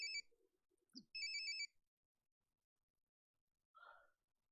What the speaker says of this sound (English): That was our alarm.